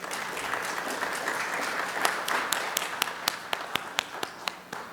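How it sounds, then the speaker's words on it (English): Conference audience at a talk on the Perl programming language breaks into applause, a dense steady wash of many hands that builds and then thins into a handful of sharp, separate claps near the end. "Some of you, yes, I heard some applause start."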